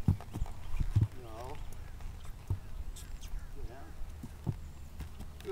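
Horse hooves clip-clopping, a young trail horse stepping on hard ground with several sharp hoof knocks near the start and scattered steps after, under a voice talking to the animal.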